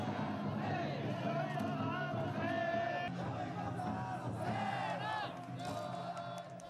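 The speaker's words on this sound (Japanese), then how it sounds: "観客は拍手喝采" A crowd at a Japanese shrine autumn festival cheers and applauds as several taiko drum floats are raised together. The dense, continuous roar of voices and clapping comes with shouts rising above it.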